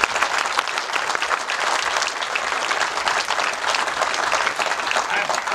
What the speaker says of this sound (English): Give Mr. Don Olson a round of applause.